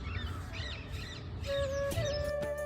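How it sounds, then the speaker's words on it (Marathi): Crows caw outside a window in the morning, a few harsh calls rising over soft background noise, with a sharper call near the end. "सकाळी उठून खिडकीच्या बाहेर पाहिलं तर पक्षी मस्त गप्पा मारत होते."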